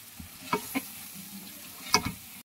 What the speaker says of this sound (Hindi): वेजिटेबल को हमने प्याज के साथ 5 से 6 मिनट अच्छे से कुक करना है